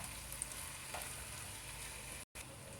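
Grated raw mango fries for a raw cashew and mango curry, giving a faint, steady sizzle in the pan with one brief dropout near the end.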